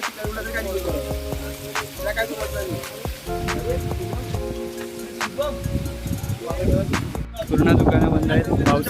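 Steady rain falls on a hillside at the Ekvira temple, a constant hiss that swells louder near the end, mixed with singing and voices.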